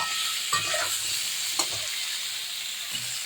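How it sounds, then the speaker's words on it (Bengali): A steady frying hiss of fried cauliflower and potatoes fills the background while a utensil scrapes and stirs through the pan a few times, close and clear, with no talking. "এটাকে নেড়ে চেড়ে সুন্দর করে একটু নাড়াচাড়া করে"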